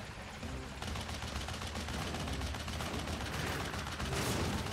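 Rapid gunfire from the video game Crash Bandicoot 3: Warped, a dense run of shots layered over busy game sound throughout, loud and steady with a bright burst near the end.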